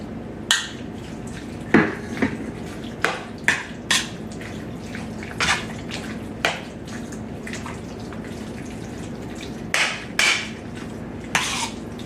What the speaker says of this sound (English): Now I'm going to throw those diced tomatoes in there